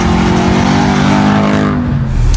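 A Mercedes B55 AMG, a 388-horsepower car built up by students from a standard model, revs hard and loud up close, its engine note rising and holding strongly before shifting near the end.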